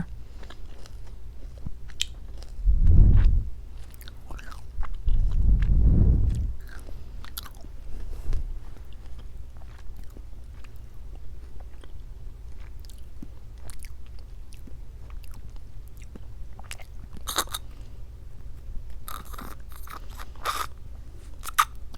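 A Chupa Chups Cremosa creamy lollipop being bitten and chewed close to the mic: two heavy crunching bites early on, then quieter, steady chewing and faint mouth sounds that last a long while, with no talking.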